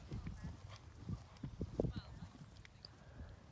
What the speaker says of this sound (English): Now we're doing our counter canter loop.